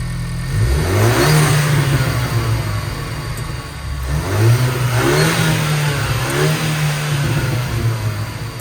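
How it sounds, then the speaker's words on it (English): A Ford Bronco engine with MBRP exhaust and ROUSH air intake revs up loudly twice on a cold start, rising and falling in pitch with a steady idle hum between the bursts, heard up close. "here's the cold start. We have the MBRP exhaust"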